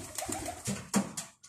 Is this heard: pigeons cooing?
yes